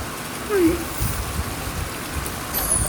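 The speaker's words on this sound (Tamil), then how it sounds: "இந்த இடத்துக்கு பேர் பால் அருவி." Rushing water at Palaruvi waterfall makes a steady, dense roar that fills the whole stretch, with slight surges and no clear pauses.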